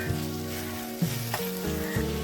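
Crushed garlic, ginger and chopped green chili sizzle steadily in a hot pan, a continuous close frying hiss with a couple of brief stirring knocks and no voices.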